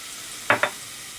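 Two quick scraping strokes of a spoon stirring sizzling dal with spice paste in a pan, a brief pair of close scrapes over a faint steady fry hiss.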